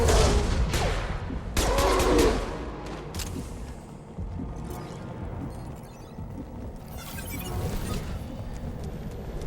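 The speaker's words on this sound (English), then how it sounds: "Gunfire." Bursts of rapid gunfire in the video game Mass Effect 2 crackle and boom in the first few seconds, then fade into a rumbling, noisy battle ambience with scattered distant shots.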